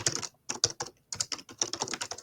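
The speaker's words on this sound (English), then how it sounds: "are you typing" Quick, clattering keystrokes on a computer keyboard come in short bursts with brief pauses, close and fairly quiet.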